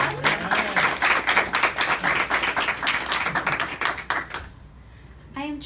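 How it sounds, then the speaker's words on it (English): An audience applauds a presenter at a recovery-centre talk, sustained clapping from a crowd that fades out after about four seconds, followed by a brief voice starting to speak. "So let's give her a round of applause."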